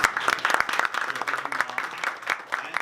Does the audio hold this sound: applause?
yes